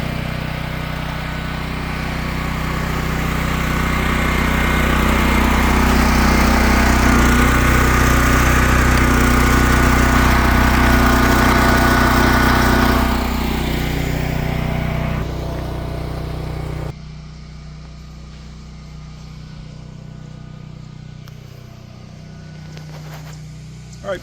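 A Champion dual fuel generator runs steadily with a loud engine drone and hum for about fifteen seconds, then cuts to a quieter, lower-level hum as the load or throttle drops.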